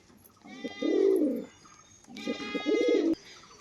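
A crested pigeon coos close by in two drawn-out, throaty calls separated by a short pause, clear over a quiet background.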